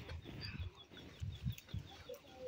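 A chicken inside a large woven basket on a trail near Indra Sarovar lake gives soft, low clucks in several short bursts, quiet and close, with faint outdoor ambience between calls.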